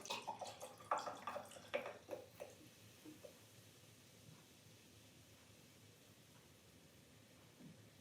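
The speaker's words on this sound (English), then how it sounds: "Top that up with a bit of soda water." Soda water topped up into a tall, thin glass, a short run of trickling splashes and fizzy drips that quickly fades into faint hissing room noise.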